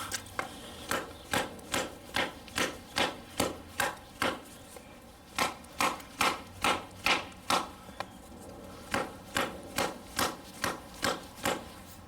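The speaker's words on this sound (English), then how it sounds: "It chops a lot faster than it saws." Ontario 499 Army/Air Force survival knife chopping wood, about two dozen sharp, evenly spaced blows in quick bursts with short pauses, close and loud with no talking.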